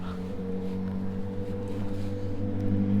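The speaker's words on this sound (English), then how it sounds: "Can you hear that motorbike?" A motorbike engine drones steadily in the distance, a low sustained hum that swells slightly toward the end, with no talk over it.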